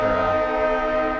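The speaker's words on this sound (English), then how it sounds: "That's our train. We got to catch that train." A train horn blares loud and steady at close range, a sustained harmonic blast with no voices.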